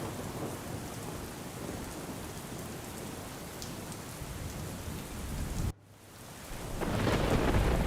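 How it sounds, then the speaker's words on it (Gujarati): Heavy rain pours down in Surat as a dense, steady roar. It breaks off briefly, then swells back louder with a rumbling surge, and no voices are heard. "સુરતમાં અત્યારે ધોધમાર વરસાદ"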